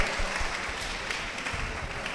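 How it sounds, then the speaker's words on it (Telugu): A church congregation claps loudly in thanks for healing, a brief burst of dense, steady applause at close range. "ఆ దేవుడు చేసిన స్వస్థతలను బట్టి గట్టిగా చప్పట్లు కొట్టి గట్టి కొట్ట"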